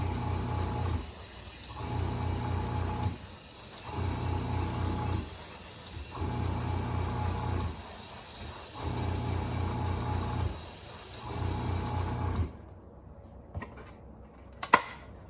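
An airbrush sprays primer onto a Space Marine miniature, a continuous close hiss of air broken by short rhythmic pauses, then it stops abruptly near the end, leaving quiet room noise and a couple of small clicks.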